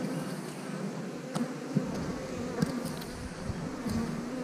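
Honey bees in a hive box during a newspaper merge, a dense, steady close-up buzz of many insects with occasional louder passes near the microphone and no talking.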